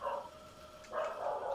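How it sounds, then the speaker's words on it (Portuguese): A dog barking twice, faint and distant, two short tonal yelps separated by a brief pause, heard alone without talk. "Nossa, o cachorro tá louca hoje"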